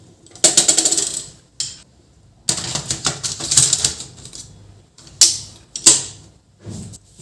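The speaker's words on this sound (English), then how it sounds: "This is printing" An HP LaserJet 1102w printer running after a paper jam repair, giving bursts of rapid mechanical clattering and whirring with short pauses between, close and fairly loud.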